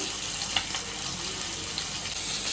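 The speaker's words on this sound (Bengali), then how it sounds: "মাথাটা ছিল তাই মাথাটা ভেজে নিচ্ছি" A rohu fish head fries in hot oil, giving a continuous bubbling sizzle with a few faint pops and clicks, close and moderately loud, with no talking.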